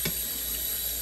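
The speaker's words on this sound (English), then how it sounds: "But I rinse the can off." Water runs from a kitchen tap, rinsing a can of green beans, a brief steady hiss and splash close by.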